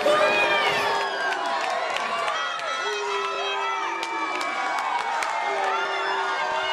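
A wrestling crowd at a Reality of Wrestling show cheers and shouts for Bobby Lashley, a sustained mass of yells and whistles from the arena with a commentator talking over it.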